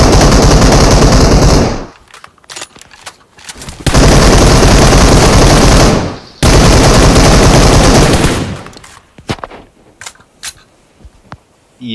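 Gunfire rattles in a video game shooter match, sustained loud bursts of rapid automatic fire broken by short pauses, then scattered single shots near the end.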